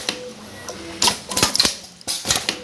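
Metal zipper open-end cutting machine for metal zippers with long pullers, cutting a zipper: a few sharp clacking mechanical strikes in a quick irregular cluster, then another burst after a short pause, close and fairly loud.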